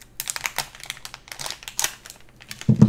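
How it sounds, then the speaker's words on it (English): Plastic crinkling and rustling in quick irregular bursts, close up, like an antistatic bag being handled and opened, with a louder crunch at the end. "And let's open it up from the static bag."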